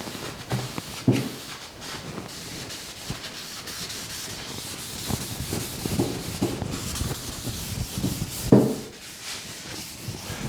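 A cloth rubs finish into a wooden bedside table drawer, following the grain in steady, close strokes that keep up a continuous scuffing rhythm, with a few louder swipes.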